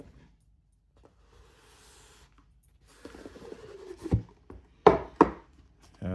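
AYN Odin 3 handheld's box being opened: faint rustling and scraping of cardboard, then a few louder close knocks and sliding scuffs as the packaging comes apart.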